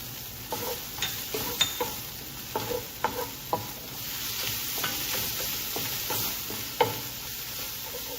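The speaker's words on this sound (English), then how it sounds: "You always want to fry your tomato paste when it comes out of those tubes." Garlic and tomato paste fry in a pot with a low continuous sizzle, broken by repeated spoon scrapes and taps against the metal at an irregular, unhurried rhythm.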